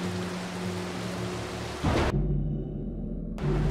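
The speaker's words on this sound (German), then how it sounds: "So, da kommt der Blitz." In-game thunderclap from a lightning strike in the stealth game Mark of the Ninja: steady rain hiss gives way to a sudden loud boom and a low heavy rumble lasting over a second before the rain returns.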